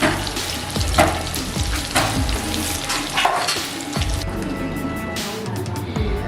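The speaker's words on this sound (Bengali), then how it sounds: "আমি মাছগুলোকে ভেজে নিই" Fish pieces fry in hot oil with a loud, continuous crackling sizzle up close, punctuated by spatter pops and occasional clinks of a utensil against the pan.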